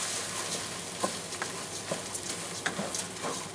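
Onions, pancetta and arborio rice sizzle steadily in a hot pot for pumpkin risotto, with occasional stirring scrapes and small pops over the constant frying hiss.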